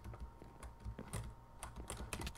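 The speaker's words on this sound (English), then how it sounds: "I'm using a new keyboard, so I haven't really got used to it yet." Rapid typing on a new computer keyboard during a Minecraft Mineplex mini-game session, a steady run of close, quiet clicky keystrokes with no talk.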